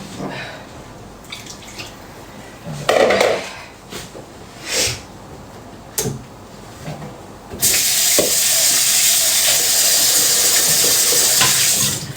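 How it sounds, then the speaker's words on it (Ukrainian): Household dishwasher running: water splashes and drips in irregular bursts, then a loud, steady hiss of steam takes over and continues to the end, with no talk. "посудомийка"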